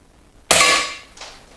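A Weihrauch HW 100 S air rifle firing lead-free pellets: a single sharp, loud crack close by that fades quickly, followed by a fainter metallic tick of the pellet striking a moment later.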